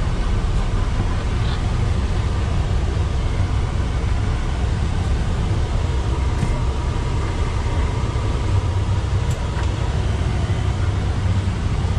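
A 2012 Peterbilt 386 truck with a PACCAR engine idling, a loud, steady low-frequency rumble close by with continuous broadband noise and no change in rhythm across the whole stretch.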